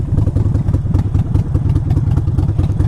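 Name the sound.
Harley-Davidson Sportster motorcycle riding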